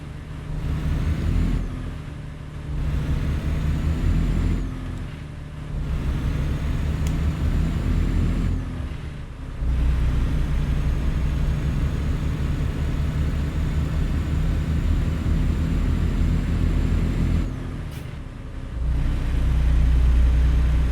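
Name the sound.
heavy truck engine in American Truck Simulator video game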